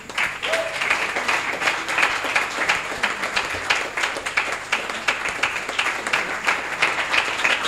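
A church congregation applauds steadily during a prayer service, dense overlapping clapping holding at an even level throughout without a break.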